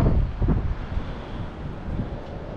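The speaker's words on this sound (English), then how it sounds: "It's kinda windy today." Wind blows hard across a microphone at a lakeside bank fishing spot, a steady low rushing buffet with gusty surges, and no voices.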